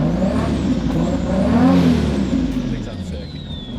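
A turbocharged car running on ethanol, fitted with an aggressive limiter, idles and warms up with a steady, loud engine drone and some rising whir, close by throughout.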